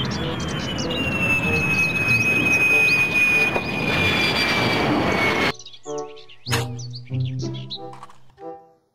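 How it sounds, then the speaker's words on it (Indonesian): A toy fighter jet plays a whooshing engine roar with a high whine for about five seconds, then cuts off; short talk-like sounds follow. "Pesawat jet"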